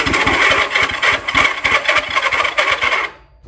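An old barn-stored Honda CL360 motorcycle engine firing up on carb cleaner, running loud and close with a rough, rapid exhaust pulse before cutting off abruptly.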